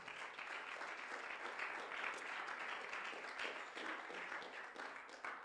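Congregation at a Spanish-language church service applauding, a sustained wash of many hands clapping at moderate distance that carries on steadily without a break.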